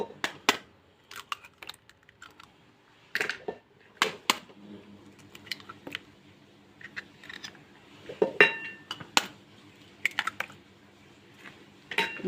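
Four eggs being cracked and added for biscuit cake batter make sharp taps, cracks and light clinks against a bowl, scattered irregularly in bursts across several seconds.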